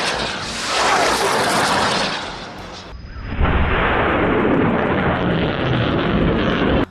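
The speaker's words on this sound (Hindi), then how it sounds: "वीडियो में साफ दिख रहा है कि कैसे हमास के लड़ाके पहले तो रॉकेट्स को लॉन्चर में फिट कर रहे हैं, उसके बाद उनको फायर कर देते हैं।" Rocket launches from a launcher firing 114 mm caliber rockets in a Gaza combat zone: a loud, roaring whoosh sustained for several seconds, a brief dip, then a second prolonged rushing blast, with no speech.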